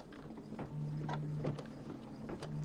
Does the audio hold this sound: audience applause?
no